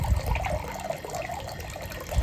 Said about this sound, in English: you can see the water's coming out from one side and a little bit from the other